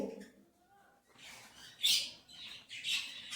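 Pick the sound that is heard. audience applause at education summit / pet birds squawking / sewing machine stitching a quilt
pet birds squawking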